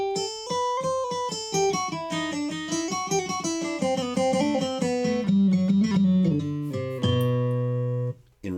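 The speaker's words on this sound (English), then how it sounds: "So you can hear where your fingers are moving." An AeroBand digital practice guitar plays a run of clear, tonal plucked notes stepping up and down in pitch, each with a short decay, ending on a couple of sustained notes and a brief stop.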